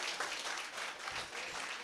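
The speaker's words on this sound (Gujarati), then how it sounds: "ખૂબ તાળીઓ પાડીએ આપણે." A crowd applauds at a community get-together (snehmilan) in Bhuj, a soft, continuous patter of many hands clapping, fairly distant and quiet throughout.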